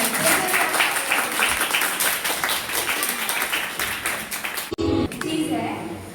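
Dense, continuous applause from an audience at an Independence Day celebration gathering, many hands clapping loudly for several seconds, briefly cutting out near the end before resuming.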